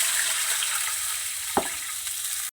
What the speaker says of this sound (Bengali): ভাজার তেলেই আমি জলটা দিয়ে দেবো পরিমাণ মতন